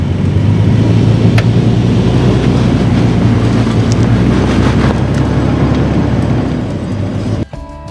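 An off-road vehicle on Go Treads recovery boards pulls out with a loud, steady engine drone and rumble for several seconds. It eases off near the end, alone with no talk.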